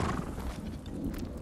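A horse in the video game Ghost of Tsushima whinnies loudly, with hooves clip-clopping over a dense, continuous game soundscape.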